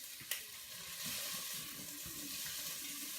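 Smoked sausage sizzles in a pot as okra and tomatoes cook, a steady close frying hiss with a faint clink at the start and soft stirring bubbles throughout.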